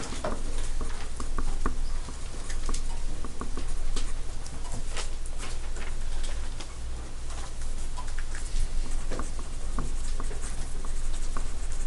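Pens or pencils scratch across paper as students take notes in a math class, giving quick irregular scratches and taps close by, with no speech.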